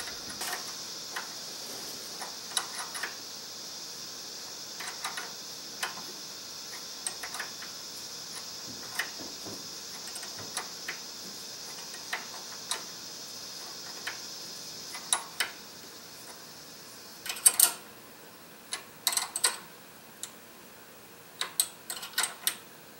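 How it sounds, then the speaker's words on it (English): A wrench tightens a grease fitting on an outer tie rod end, giving a long run of small sharp metallic clicks at uneven intervals, faint at first and then louder and more clustered near the end, with no voices. "then you can just finish putting it on with the wrench"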